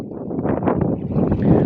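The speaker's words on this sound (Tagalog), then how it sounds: "Dahil malakas na masyado ang hangin" Strong wind blowing at sea around a small fishing boat, a steady broadband rush with gusty swells over about two seconds, close to the microphone and with no voices.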